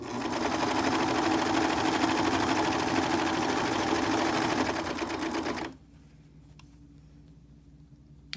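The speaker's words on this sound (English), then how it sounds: "when you're sewing, you're not going to be able to go in a straight line. You do need to sew with the curve." A sewing machine stitches a fabric mask along a curve, running loud and steady with a fast, even mechanical buzz for several seconds before stopping abruptly, leaving a quiet room with faint handling sounds.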